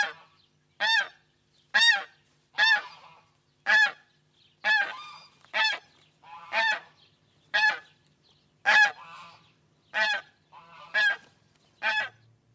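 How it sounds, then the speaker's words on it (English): A goose honks loudly and repeatedly, about a dozen evenly spaced calls, each a short nasal blast with brief silences between. "Those be my ducks and geese."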